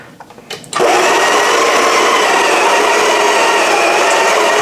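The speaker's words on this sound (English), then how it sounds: "Pop the group handle onto the grinder. So this is the Sage Smart Grinder Pro." A Sage Smart Grinder Pro grinds espresso coffee into a portafilter, starting after a brief quiet moment with a few small clicks, then a loud, steady, close whirring grind that runs on unbroken.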